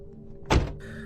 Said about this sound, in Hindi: महेश ने दरवाजा खोला